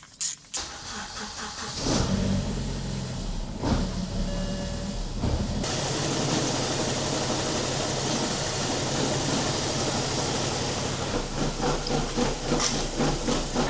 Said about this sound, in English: Now the engine seems to be running properly.